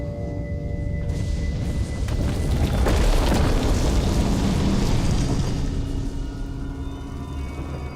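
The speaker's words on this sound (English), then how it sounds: "Fire the lasers!" Lasers firing in The Room puzzle video game, a loud sustained boom and rumble with a bright burst swelling in the middle and holding for several seconds.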